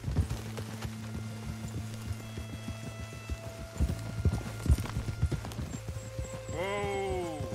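Horse hooves clip-clop at a steady run in Red Dead Redemption 2, with game ambience, a few scattered clacks and a brief rising whinny near the end.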